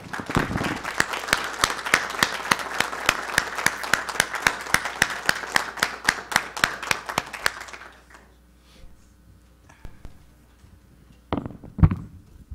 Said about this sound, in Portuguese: O nosso aplauso para o colega Zezé.